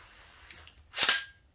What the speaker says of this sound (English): Grab our trusty impact driver, line it up